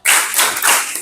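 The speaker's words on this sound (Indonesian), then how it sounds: "Kasih dia tepuk salut." A class of children clap together in a rhythmic salute clap, a loud burst of fast, dense clapping in a classroom that pulses in a few beats over about a second.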